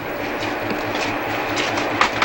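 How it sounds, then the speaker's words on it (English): A Newfoundland Railway work train at Bishop's Falls rolls past close by, its wheels beating out a steady clickety-clack over the rail joints with a continuous rumble and a faint metallic squeal near the end. "At Bishop's Falls, a lone work train ties up after a day of dismantling work along the Bishop's Falls sub."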